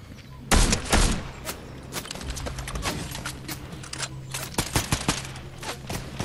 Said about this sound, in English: Ooh, they're shooting at me.